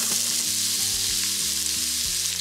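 Diced medium onion sizzling and frying in a pan, a steady close hiss with faint stirring scrapes throughout.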